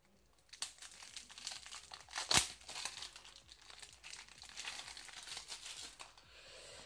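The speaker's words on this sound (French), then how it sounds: "on va passer tout de suite au déballage de ce petit deck" A Yu-Gi-Oh! starter deck is unwrapped up close, its plastic wrapping crinkling and crackling in bursts with one sharp tearing rip early on, then steady rustling that fades out.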